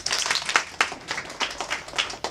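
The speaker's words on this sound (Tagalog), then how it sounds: "Palakpak lang mga kapatid." An audience claps in short, irregular bursts at a religious talk, several sharp rounds of hand clapping spread across a couple of seconds, fairly close and without speech.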